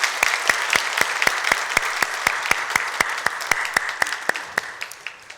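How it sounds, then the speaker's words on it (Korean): Church congregation applauding during a Sunday worship service, a brisk steady rhythm of sharp claps that sounds like a small group clapping in unison and gradually fades near the end. "하나님께 영광의 박수 올려드리겠습니다"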